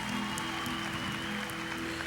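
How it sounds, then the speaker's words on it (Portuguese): A church congregation at a worship congress applauds in a continuous, dense wash of clapping, heard faint and somewhat distant, with no voices rising above it. "Vamos aplaudi-los."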